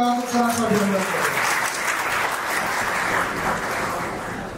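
An audience at an academy ceremony honouring over 400 students in Amravati claps in a sustained, moderately loud wave after a voice, slowly tapering toward the end.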